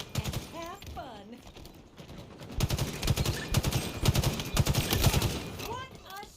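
Video game gunfire rattles in quick repeated bursts, a steady automatic-sounding stream in the middle of the clip, with whistling or voice-like sweeps at the start and end.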